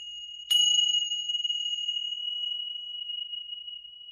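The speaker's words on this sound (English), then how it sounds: "I'm going to ring the bell a few times" A single bell is struck once to open a tarot reading in Sedona, giving a bright, clear ring that sustains as a long, pure tone and fades slowly in the quiet.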